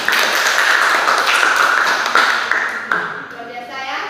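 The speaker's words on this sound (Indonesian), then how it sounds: "Tepuk tangan untuk kita semua." A burst of clapping from a small classroom group rings out for a few seconds, then tapers off, with a voice speaking over it.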